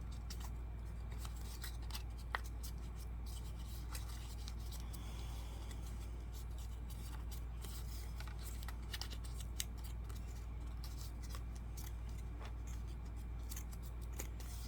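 Paper is scored along fold lines for a pop-up box, with faint scratchy strokes and small clicks over a steady low hum, close and quiet, with no voices.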